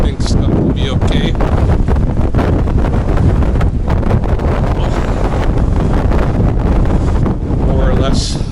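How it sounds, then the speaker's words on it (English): Wind blows hard outdoors by a river, a loud, continuous rumbling buffet across the microphone, with faint voices in the background. "we do have a wind, so that makes it a little bit chilly"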